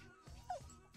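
A dog in the video game Yaga gives a single short whimpering yip, brief and fairly close, over faint background game sound.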